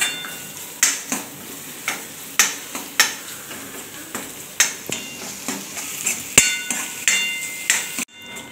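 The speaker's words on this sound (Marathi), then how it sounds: "आता इथं हे छान असं तेलामध्ये भाजून घ्यायचं आहे।" Ginger, garlic and green chilli paste with onion frying in hot oil in a pan, a steady sizzle broken by regular sharp knocks of a spoon stirring against the pan, close and without speech.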